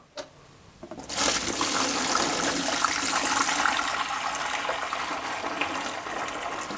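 Water pours steadily from a dehumidifier tank in a continuous rushing stream, fairly close, starting after a brief clatter and holding constant without talk.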